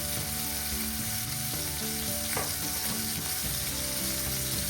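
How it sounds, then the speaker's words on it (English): Steak sears in a hot pan as part of a steak frites dinner, giving a steady, close, dense sizzle with faint stirring clatter and no voices. "Here's our sear."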